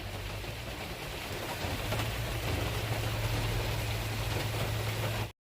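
Heavy rain in Koppal, Karnataka hisses steadily and close over a tarpaulin, a dense continuous wash with a low hum underneath; no one speaks.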